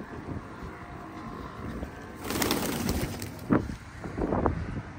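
Soft pigeon coos sound a few times over gusty wind noise and outdoor rumble.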